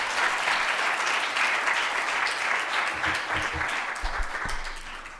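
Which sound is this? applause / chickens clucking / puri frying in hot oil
applause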